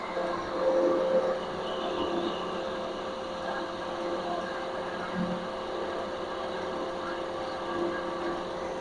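A generator runs under electrical load with a steady, droning engine hum and rumble that rises slightly in pitch as the RPM climbs, continuous and close.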